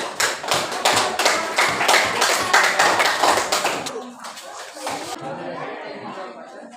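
Students in an Indonesian classroom clap for a classmate: dense, busy applause for about four seconds, then it thins out into scattered claps under background chatter and voices.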